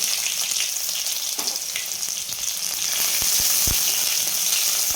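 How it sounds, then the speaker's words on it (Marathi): Chopped onion and cumin seeds, added after mustard seeds, sizzle and fry steadily in a hot pan, with a constant close hiss and a few sharp crackles and pops toward the end and no talking. "यानंतर आपण जिरे टाकणार आहे तितकेच एक कांदा कट करून घेतलेला आहे तो टाकू"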